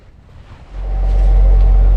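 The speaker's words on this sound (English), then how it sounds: "it was best to keep the motor running to ensure we have maneuverability if we needed it." Sailboat auxiliary motor running while weaving through reef channels at Los Roques, a low steady drone that swells up from quiet and holds loud and close, with some wind noise.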